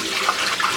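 Cloudy soaking water is poured out from under a batch of sea moss, a close, splashing gush running steadily with small surges of trickling.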